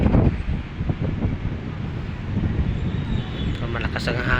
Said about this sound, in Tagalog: Malakas ang hangin, malakas ang hangin dito sa taas